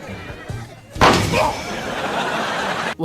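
A sudden loud burst from an exploding muffin-basket confetti cannon prank, followed by a sustained rushing noise with faint voices beneath it, ending in a brief pop.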